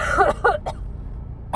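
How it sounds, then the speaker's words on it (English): A couple of quick, rough coughs close up, followed by a short pause and another small cough at the end. "it's usually because of this darn cough"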